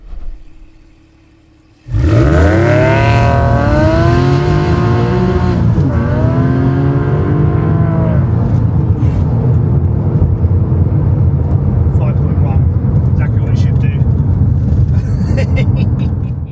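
A 22-year-old Porsche 911 996 launches hard from a standstill on a 0 to 60 run, its engine roaring loud and close as revs climb and fall through several gear changes, with voices audible under the noise.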